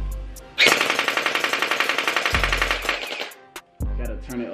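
A light-up gel blaster toy gun fires a loud, rapid burst of evenly spaced mechanical shots, close by, followed by a short pause and another brief burst.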